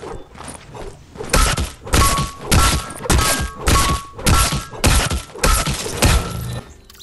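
Magnifying Axe pickaxe striking a downed opponent in a video game: eight or nine crunchy, glassy thwacks in a steady rhythm, loud and close, with no voices.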